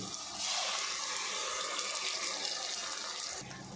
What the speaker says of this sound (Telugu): దీంట్లో కొన్ని అయితే వాటర్ యాడ్ చేసుకుందామండి